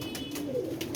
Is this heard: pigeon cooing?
yes